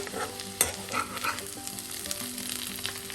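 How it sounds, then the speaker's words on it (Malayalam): Ivy gourd (kovakka) frying in a pan, a steady close sizzle with occasional stirring scrapes and a sharp clink from the utensil. "എല്ലാം നല്ലതുപോലെ ഫ്രൈ ആയിട്ടുണ്ട്."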